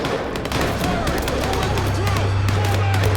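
Gunfire in the video game Vampire The Masquerade Bloodlines 2, a dense scatter of sharp shots and bursts amid a loud, busy mix with a steady low hum building underneath; game voices are heard too.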